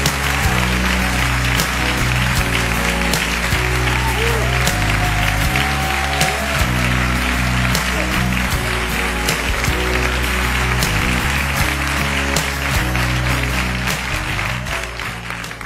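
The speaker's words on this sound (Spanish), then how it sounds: "Un aplauso para Ronald Cotton." An audience applauds continuously as a guest is welcomed onstage, a sustained spread of clapping mixed with music that carries on throughout.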